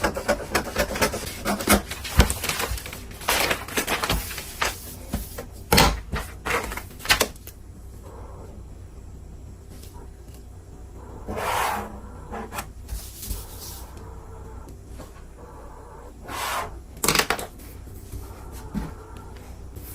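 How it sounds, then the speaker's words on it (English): Paper for a drafted jacket pattern is being cut by hand, giving irregular close snips, rustles and scraping taps that come in busy bursts, then thin out with quieter gaps, and nobody speaks. "So I'll go ahead to start cutting the measurement out."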